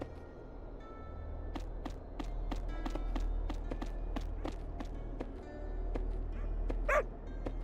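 Dog barking inside a video game, a series of short, evenly spaced barks repeating steadily over a low game ambience, with a brief higher yelp near the end.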